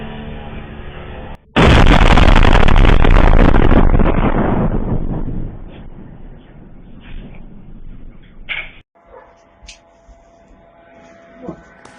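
At night during a mass attack on Moscow, a sudden loud explosion erupts after a quiet start, then a long rumbling decay fades away, followed by faint scattered pops and low distant noise.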